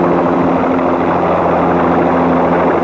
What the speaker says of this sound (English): The RCMP helicopter was called in to take aerial photos of the site.